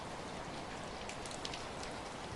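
Steady rain pattering down on surfaces, a constant soft hiss of many drops at low volume, heard alone without voices.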